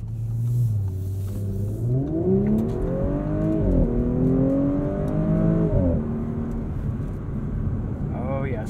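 A 2021 Audi S4's 3-liter V6 in dynamic mode revs up through the eight-speed gears, its rising engine note climbing, dropping at each shift, then settling into a steady drone heard from inside the car, with a brief voice at the end.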